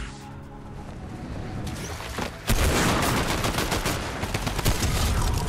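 Weapon gunfire in Fortnite, a quiet stretch giving way midway to a loud, dense burst of rapid shots that continues to the end, close and forceful.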